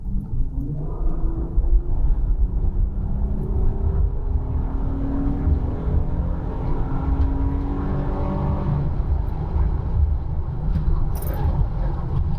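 A 2012 Honda Pilot's 3.5-liter J35 single-overhead-cam V6 accelerates hard from inside the cabin, its engine note rising steadily in pitch past 4,000 RPM over a constant low road rumble, with no talking.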